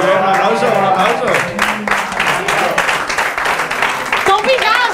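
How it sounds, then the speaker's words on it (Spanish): An audience at a school quiz show in Elche applauds, bursts of clapping mixed with cheering and raised voices at a steady, loud level throughout. "un aplauso, un aplauso"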